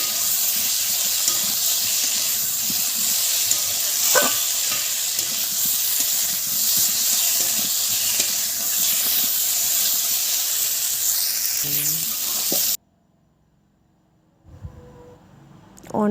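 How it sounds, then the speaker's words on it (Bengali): Potato and cauliflower pieces fry in a pan for a Bengali jhol, a steady close sizzle broken by scraping stirs for about twelve seconds, then near silence before faint stirring returns. "অনেকক্ষণ ধরে কিন্তু কষছি আলু ফুলকপিগুলো"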